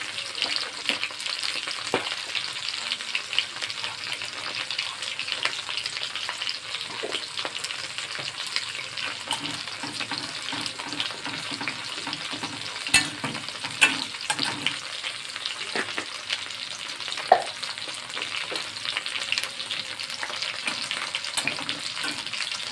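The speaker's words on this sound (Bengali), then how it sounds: "বাটারটা একটু গলে গেলে তারপরে এতে ফোড়ন দিতে হবে। ফোড়নে আমরা তেজপাতা দেবো" Bay leaf and white cumin tempering crackle and sizzle steadily in melted butter, a dense continuous fry with a few sharper pops scattered through, close and fairly loud with no talking.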